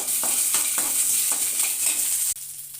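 Curry leaves, red chillies and ginger sizzle loudly in hot oil in a pan, a bright continuous frying hiss punctuated by a few stirring scrapes, cutting off abruptly near the end.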